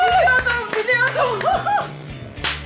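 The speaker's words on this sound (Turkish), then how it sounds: "Evet, Damla'ya bir alkış alıyoruz" A game-show studio audience applauds a contestant after a cleaning competition result, brisk clapping close by mixed with chuckles and excited voices, including a woman's raised tone.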